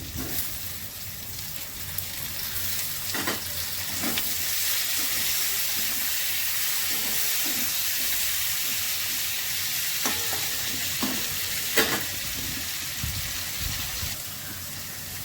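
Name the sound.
turmeric and chopped tomato frying and being stirred in pan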